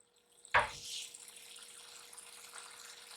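About half a cup of water goes into minced meat (keema) browning in a pan: a sudden splash and burst of sizzle lands after a short quiet start, then settles into a softer, lingering hiss.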